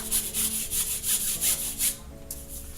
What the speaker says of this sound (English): Whatever is on the bristle, I'm just going to spread as much as possible.